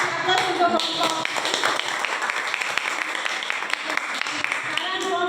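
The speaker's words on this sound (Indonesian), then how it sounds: "Kasih aplaus untuk kelompok." Students in a classroom clap for a group that has just presented, a brisk scatter of hand claps running steadily throughout, with some chatter mixed in.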